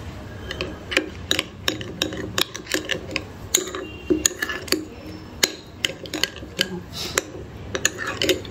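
Spoon clinking rapidly against a bowl while mixing cumin powder and goda masala, a busy irregular series of sharp taps and scrapes close up.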